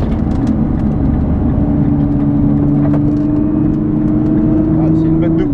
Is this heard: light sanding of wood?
no